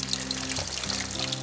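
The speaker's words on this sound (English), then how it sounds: "That oil's hot, it's about 180 Celsius. If you're nervous about deep frying" Food deep frying in hot oil at about 180 Celsius, a close, steady crackling sizzle with fine bubbling and low hum underneath.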